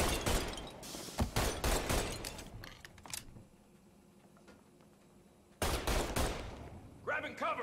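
Rapid bursts of gunfire in a 1930s-style Mafia Definitive Edition shootout, loud and dense for the first three seconds, then a quiet lull before another heavy volley and a short shouted voice at the end.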